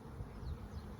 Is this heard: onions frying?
no